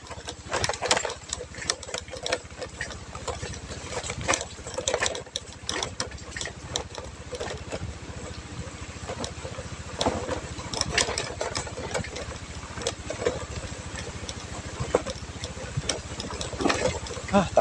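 A vehicle engine revs and labours on the rough road to the Sibayak hot springs, with a continuous rattly drone and uneven surges of throttle, and speech is heard faintly at times.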